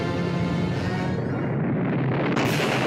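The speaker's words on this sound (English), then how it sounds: "Kaboom." A cartoon explosion from a Wile E. Coyote versus Tom Cat animation erupts as a loud, continuous rumbling roar that fills the whole moment and ends with a sharp crackling burst.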